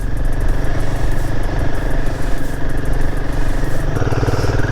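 A motorcycle engine labours in second gear on a steep mountain road, giving a loud, steady, close drone that stays strained without letup and with no talk.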